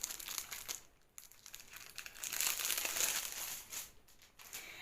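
A clear plastic sleeve around a diamond painting kit crinkles and crackles up close in bursts of varying intensity, with brief pauses between handling, and no talk.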